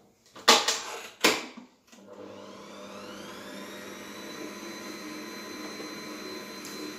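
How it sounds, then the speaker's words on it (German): Kitchen machine kneading bread dough with salt and rye sourdough powder, two clunky knocks as it is set up, then a steady motor whir that holds an even, moderately loud tone. "Das Ganze werde ich jetzt in der Küchenmaschine 5 Minuten kneten."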